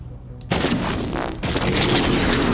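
Rapid weapons fire from a long-range space battle in the strategy game Endless Space 2, a dense burst of shots and booms that starts abruptly and keeps up loud and continuous, with a second surge partway through.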